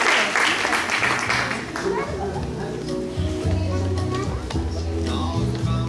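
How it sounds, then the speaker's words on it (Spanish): Audience clapping at a 2022 recognition ceremony honoring teachers and young regional champions: dense, steady applause throughout, with voices and children's chatter mixed in over it. "Un aplauso también para ellos,"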